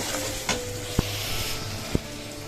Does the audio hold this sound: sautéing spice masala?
yes